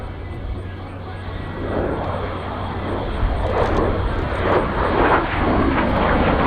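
CT-133 Silver Star "Black Knight" jet trainer flying past at an air show, a loud swelling engine roar building over several seconds, with an announcer talking over it.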